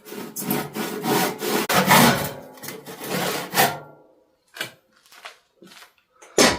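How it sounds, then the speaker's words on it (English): A hand saw cuts through wood with steady rhythmic back-and-forth strokes that rasp loudly and close up for about four seconds. A few lighter scrapes follow after a pause. "No force, just let the saw do the work."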